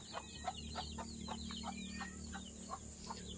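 Quiet, repeated clucking from several skittish farm chickens at a distance in the Philippine countryside, irregular soft calls over a steady background hum.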